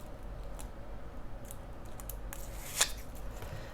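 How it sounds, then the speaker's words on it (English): Scissors cut through a sticker sheet with one crisp, close snip near the end, after a stretch of quiet, faint rustling. "so let's just cut this right here."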